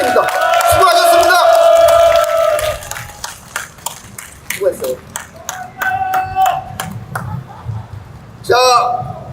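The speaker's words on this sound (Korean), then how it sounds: "뜨거운 박수 부탁드립니다" Audience clapping at an outdoor evening rally of construction workers by a train station, a loose round of applause with scattered claps that thins out, under a voice speaking briefly and background music.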